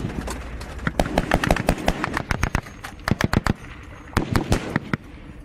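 Incoming gunfire in Afghanistan crackles in rapid, irregular bursts of sharp shots, some clustered in quick automatic strings, moderately close against a dusty background rumble.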